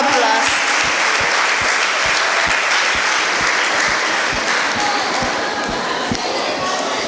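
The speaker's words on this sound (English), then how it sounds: "Please give them a round of applause." Loud, sustained applause from an audience honoring guests at the high table of a Gambian children's podium competition show, steady throughout with sharp rhythmic thumps cutting through the clapping.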